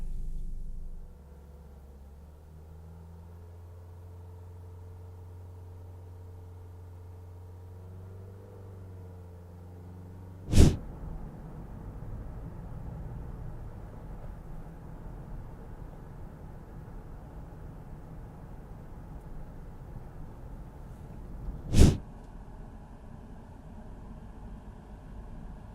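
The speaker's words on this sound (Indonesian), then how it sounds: "saya mau ngetes engine noise-nya di 3000 RPM." Steady low engine drone inside a 2014 Honda Odyssey RC1 minivan held at 3000 RPM, a faint even hum and rumble broken by two sharp clicks.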